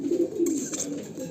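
Pigeons cooing at a pigeon farm, a short close burst of soft throaty coos with a faint rustle partway through.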